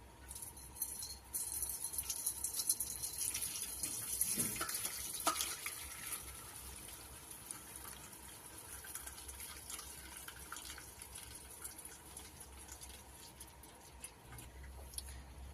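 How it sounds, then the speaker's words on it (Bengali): Dirty soaking water poured off dried fish into a sink, a steady close wash of running liquid that swells for a few seconds, then settles into a softer continuous trickle. "কত নোংরা জল বেড়াচ্ছে দেখেছেন শুকনো মাছের গা থেকে। এই জলটা এবার ফেলে দেবো।"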